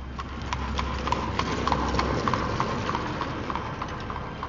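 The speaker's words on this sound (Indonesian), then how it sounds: "kedengeran suara derap kaki kuda" Horse hooves clip-clop in a steady, even rhythm over a low rumbling background, moderately near and continuous with no talk.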